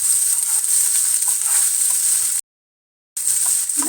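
Onion, dried red chilli, two garlic cloves and curry leaves sautéing in a pan for mutton uppu kari, with a steady close hiss and sizzle that cuts out briefly near the end and then returns.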